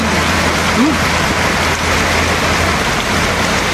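Heavy rain pours down steadily and loudly during a rainy-day meal with a banana heart omelette, a dense continuous hiss of drops hammering nearby surfaces with no break throughout.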